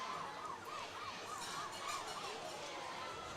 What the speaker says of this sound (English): There is a siren going on.